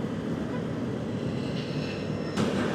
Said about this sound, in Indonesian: tuh dia take off pesawatnya